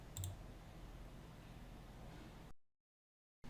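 A single crisp computer mouse click on payroll software, close and faint over a low steady hiss, followed by silence.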